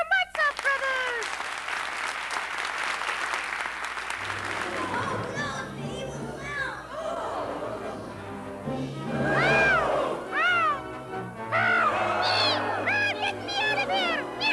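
A performer with a juggling troupe gives exaggerated meows that imitate a cat during a stage show. The voice rises in short yowls over steady audience applause and crowd noise, with several calls in the second half.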